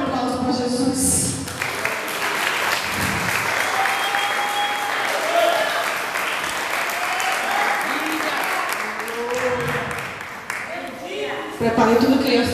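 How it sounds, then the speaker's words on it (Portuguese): A church congregation applauds at length, a broad crowd of clapping with cheering voices woven through it, loud and sustained before tapering near the end. "Eu posso ouvir um aplauso para Jesus?"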